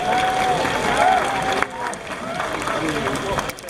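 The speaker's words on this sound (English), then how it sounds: "can we give the trainers and the sea lions a warm round of applause today" A crowd at a Steller sea lion show at the Vancouver Aquarium applauds trainers and sea lions, steady dense clapping mixed with cheering throughout, with voices in the crowd.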